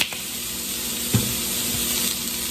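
Brussels sprouts sizzling in a pan, a steady hiss of frying with a soft clink of a utensil partway through, close and continuous with no voices.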